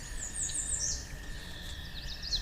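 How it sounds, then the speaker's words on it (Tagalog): Many birds chirp and call at a hilltop wind farm in Pililla, Rizal, with bright, fairly faint tweets over a steady wind and ambient rumble. "Ang dami pa namang ibon."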